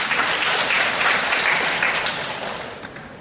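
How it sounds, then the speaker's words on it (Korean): An audience at a women's week lecture contest in Korea applauds to welcome a speaker, steady broadband clapping filling the room before tapering slightly toward the end, with no voices heard. "박수 부탁드립니다."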